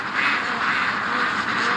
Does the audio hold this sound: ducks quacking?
yes